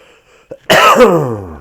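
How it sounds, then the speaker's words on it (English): A single loud, rough cough bursts out after a brief quiet moment, close and harsh, trailing off into a breathy, throaty rasp. "I'm gonna cough again"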